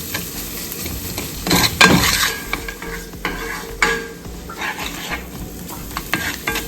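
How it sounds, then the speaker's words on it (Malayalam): Shallots sauté in a pan for crab theeyal, a spicy Onam curry, under a steady sizzle with scraping stirring strokes and one louder burst of frying and clatter early on, with no voices. "നന്നായിട്ട് ഇളക്കി അങ്ങോട്ട് ഇവിടെ ചുവന്നുള്ളി അങ്ങോട്ട് മൂക്കട്ടെ"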